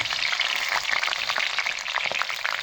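Garlic frying in hot oil in a wok, a brief, bright, crackling sizzle heard close up and alone.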